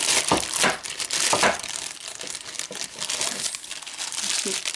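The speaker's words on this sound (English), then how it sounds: "So I'm going to unwrap it here together with you." Plastic bag being unwrapped from an old toy grandfather clock, a close, irregular crinkling and rustling in repeated bursts, with faint speech underneath.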